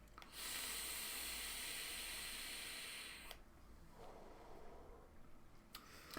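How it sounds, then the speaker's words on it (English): Drawing on an Innokin Kroma-Z vape running a 0.3 ohm coil at 35 watts, a soft close airflow hiss for about three seconds, then a quieter breathy exhale of vapour. "Let's give it a vape and see what we think."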